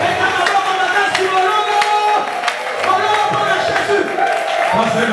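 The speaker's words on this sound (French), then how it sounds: "Applaudissez fort." A church congregation at a live sermon in Kinshasa claps loudly and steadily in rhythm, with crowd noise, voices and sustained music tones filling a reverberant hall.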